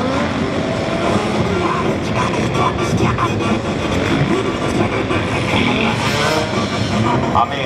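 A Suzuki DRZ400SM motorcycle running a moto gymkhana course, its engine a loud, continuous revving drone rising and falling as it maneuvers, with an announcer talking over it.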